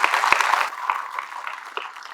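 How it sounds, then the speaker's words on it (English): Audience clapping at an academy gathering, a brief burst of many hands that thins out and tapers over about two seconds. "When you are clapping"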